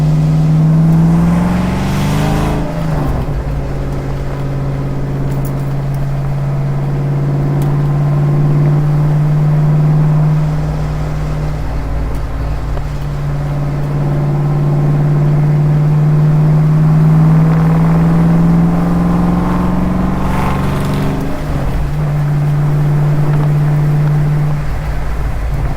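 A car with a freshly rebuilt 4.6-liter four-valve engine is driven on a break-in run, its engine drone loud and close, rising and falling in long steady pulls as it shifts through gears.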